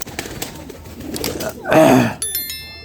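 Pigeons kept in a home loft give a single close, rounded coo near the middle, surrounded by quieter rustling and low background noise.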